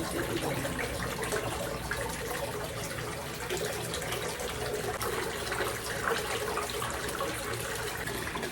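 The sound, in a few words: water running from a tap into a tub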